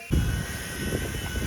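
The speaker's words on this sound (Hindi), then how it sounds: "तो भाई आज हम करने जा रहे हैं अपने आरसी हेलीकॉप्टर की टेस्टिंग" A remote-controlled toy helicopter runs on a flight test outdoors in a cool breeze, its rotor and motor giving a steady, close, loud whirring drone that holds without a break.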